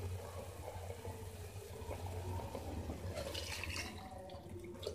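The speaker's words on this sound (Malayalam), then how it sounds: "നമ്മൾ വെള്ളം ഒഴിക്കുക." Water pours into a cooking pot for rice in a Kannur-style dish, making a continuous close rushing, splashing stream that brightens and changes near the end.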